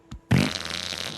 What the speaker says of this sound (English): I'm about to fart right now.